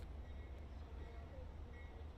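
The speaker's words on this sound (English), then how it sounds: "that's a slow-moving train out there" A slow-moving train rumbles past outside a ballpark during a baseball game between Texas State and Southern Mississippi, a steady low distant drone with a faint tonal whine.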